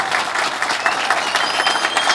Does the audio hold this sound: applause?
yes